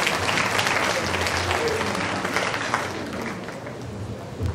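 Audience clapping at an MOU signing with Nestle Nigeria, where the head of human resources has just been introduced; dense, steady applause from a roomful of people that fills the whole stretch, with indistinct crowd murmur underneath.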